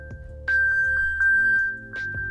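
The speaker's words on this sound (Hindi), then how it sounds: "और यहाँ पे पिंगिंग स्टार्ट हो गई है।" A MacBook triggered through Siri's Find My plays its locating alert, a sustained electronic tone broken by a series of short, bright pings, close and clear with no talk.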